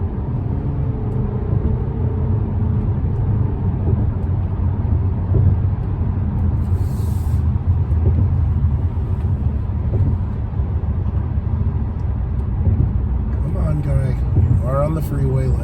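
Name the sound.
2023 Toyota Camry Hybrid driving onto the freeway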